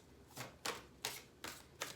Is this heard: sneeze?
no